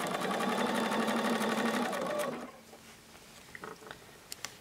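A sewing machine stitches 4-patch quilt blocks for an hourglass quilt block, running in a steady loud buzz for about two seconds before stopping, followed by a few faint clicks and handling sounds close by.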